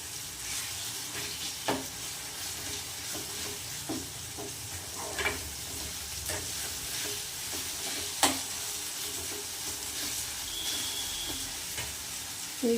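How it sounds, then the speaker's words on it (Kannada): Ginger garlic paste fries in a pan for pasta, giving a steady, close sizzle throughout with occasional clicks and stirring taps and no talking. "ಅದಕ್ಕೆ ನಾನು ಸ್ವಲ್ಪ ಶುಂಠಿ ಬೆಳ್ಳುಳ್ಳಿ ಪೇಸ್ಟ್ ಹಾಕೋತಾ ಇದ್ದೀನಿ"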